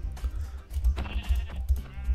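Repeated short bleats from a sheep in a video game, several calls in quick succession over a low rumbling background, fairly close and moderately loud.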